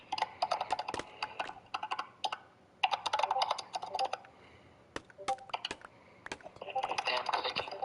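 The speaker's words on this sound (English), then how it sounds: "Damn clicking." Rapid computer keyboard typing clicks in bursts with pauses, picked up on a livestream mic while a Minecraft Bedrock build continues, fairly close and steady.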